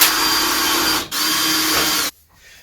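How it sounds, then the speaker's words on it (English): A power drill drives screws while a wood stove is installed in a pallet wood cabin. A loud, steady whir runs close by, breaks off for a moment, resumes, and then cuts out abruptly, with no voices. "I'm just going to put screws in each one of these."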